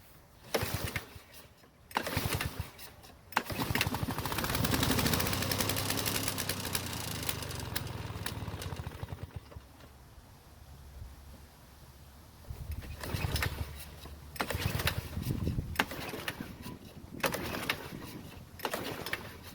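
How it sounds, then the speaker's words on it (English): An old Toro lawn mower is pull-started with the choke on, its rope yanked several times as the engine catches, sputters and runs briefly, then fades out before more pulls and rattling. "let's choke the carb, pull the rope a couple of times, and see what happens"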